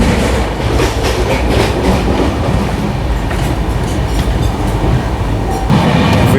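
The 12952 Mumbai Rajdhani express runs on rails past the Virar area, a loud continuous rumble with rhythmic clickety-clack of wheels over rail joints and no voices.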